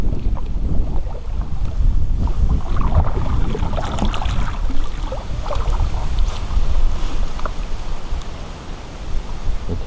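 Strong wind buffets the microphone in a continuous loud rush while fishing from a boat on the reservoir at Nazaré Paulista, São Paulo.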